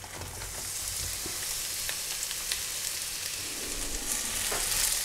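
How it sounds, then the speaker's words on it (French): Onions frying in a tablespoon of butter in a pan, a steady close sizzle with soft crackles and a few stirring clicks throughout, no talk. "On va mettre les oignons à cuire."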